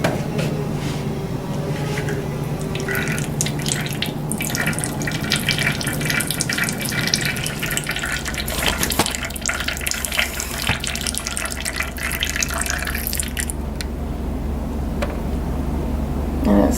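Oil dripping and trickling from a drained oil filter, heard as a continuous close liquid trickle with faint clinks, later joined by a low steady hum underneath.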